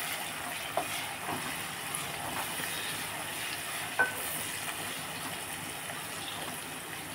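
Onions with curry leaves frying in a covered pan, a steady soft sizzle and crackle running throughout with a couple of sharper pops, close and moderately quiet, no talking.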